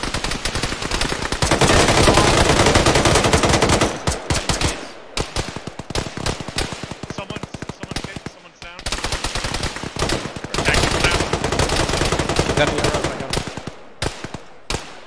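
Machine guns fire in Arma 3 during a ShackTac squad battle, with long rapid bursts of loud automatic shots broken by short gaps before the firing resumes.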